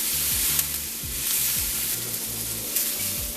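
Onions and mixed vegetables sizzle steadily as they brown and caramelize in a pan for a tempeh taco filling, a dense close-up frying hiss with no talking.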